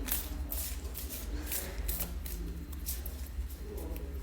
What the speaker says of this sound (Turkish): Bir de platonikler için kart çekelim mi?